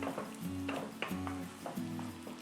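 Tomato rice masala with ground paste is stirred in a pan, giving soft scraping strokes and light sizzling in slow repeated sweeps, close and fairly quiet with no speech.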